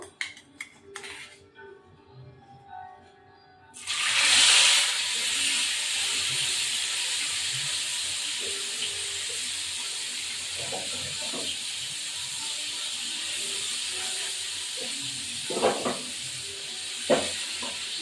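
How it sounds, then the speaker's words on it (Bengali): Parshe and katla fish fry in a hot pan, a sudden loud hiss bursting in as they go into the oil and then settling into a steady, close sizzle with a few sharp pops. "পার্শে মাছগুলো ভাজবো"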